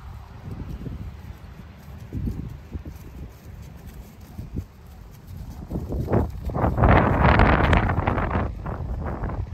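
A golden dun mare walks unbridled outdoors, her hooves clip-clopping in an irregular rhythm that grows louder and closer toward the end, with wind buffeting the microphone throughout.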